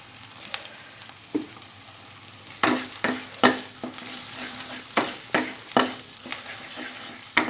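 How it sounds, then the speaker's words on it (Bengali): Mustard oil being stirred into lote fish paste frying in a pan, with a low sizzle under irregular scraping strokes and spoon knocks, close and moderately quiet, no talk. "এইবার আমি মেশাবো এর মধ্যে ওয়ান টেবিল স্পুন সর্ষের তেল"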